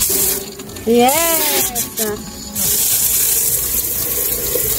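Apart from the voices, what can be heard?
water running from a tap in a camper van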